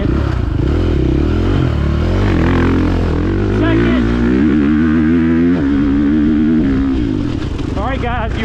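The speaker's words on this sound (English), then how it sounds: "I got quick shifter on, and I'm not gonna touch the clutch, and I'm gonna shift under the heaviest load I can." A 2023 KTM motocross dirt bike runs at full throttle, upshifting with a quickshifter without the clutch. The engine screams loudly and continuously, its pitch climbing and briefly dropping at each shift, with a voice talking over the engine.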